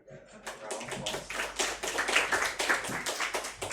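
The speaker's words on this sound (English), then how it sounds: "Give them a round of applause." Scattered applause from a small group of students fills a classroom after a linear algebra lecture exchange, a fairly faint patter of clapping that swells slightly mid-way, with a voice faintly underneath.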